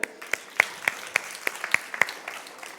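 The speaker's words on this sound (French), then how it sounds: "Bravo, Asimo, applaudissons-le." Scattered hand claps from a small audience at an ASIMO robot demonstration, sparse and fairly faint, a handful of distinct claps rather than a full ovation.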